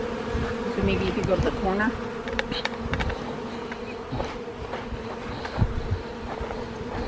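Honey bees buzz steadily around a hive entrance, a dense close hum lasting throughout, with people talking briefly over it.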